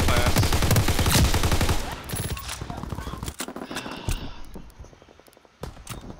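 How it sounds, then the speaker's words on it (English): A Bren machine gun in the Call of Duty WWII multiplayer beta rattles off loud rapid bursts up front, then thinner scattered gunfire and battle noise follow, with some voice over the top. "Let's try out this new Bren gun."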